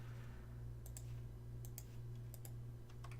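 Keys on a computer keyboard tap in a few quick bursts while a search is typed in Minecraft, faint clicks over a steady low electrical hum.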